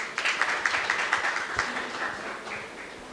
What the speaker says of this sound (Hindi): आइए सब तालियों के साथ जियाना का वेलकम करते हैं